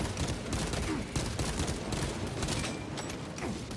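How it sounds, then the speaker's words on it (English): Rapid, sustained gunfire from the Warhammer 40,000 video game Space Marine 2, dense overlapping bursts of shots filling the whole stretch at steady loudness with no talk over it. "Ah, we getting shot. I'm getting shot."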